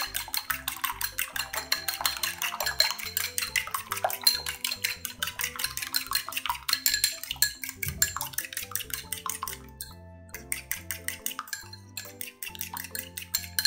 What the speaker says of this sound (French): je vais tout simplement battre tout ça avec une cuillère, une fourchette